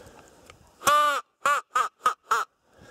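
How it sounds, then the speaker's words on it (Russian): A crow caws five times, one long harsh call followed by four shorter rhythmic caws, clear against quiet surroundings. "Всякие вороны только летают."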